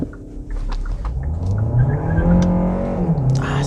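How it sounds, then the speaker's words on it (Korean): A Kia K5 hybrid sedan's engine revs and builds steadily as it accelerates, loud and close, with a rising tone and a brief tire squeal from wheel slip near the end. "그래도 엔진 사운드가 제법 크게 들리네요."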